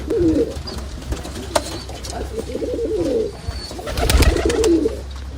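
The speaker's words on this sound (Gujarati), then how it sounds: "અહીંયા કબૂતર છે પાછું આવી ગયું છે" Pigeons coo repeatedly nearby, soft throaty warbling calls in several bursts over faint background hum, with a few thumps and rustles.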